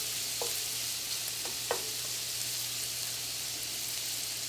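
Bacon sizzles and fries in a pan with a soft, steady crackling hiss under a low background hum, joined by a few light scraping stirs.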